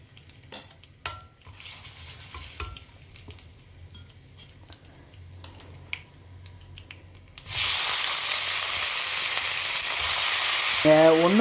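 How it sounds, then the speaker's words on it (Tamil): Mustard seeds, lentils and asafoetida frying in hot oil: quiet pops and crackles at first, then a sudden loud, steady sizzle that fills the rest, close up with no talking. "கடுகெல்லாம் பொரிய ஆரம்பிச்சிருத்து"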